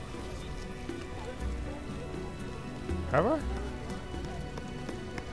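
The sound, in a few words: rain falling in the video game The Witcher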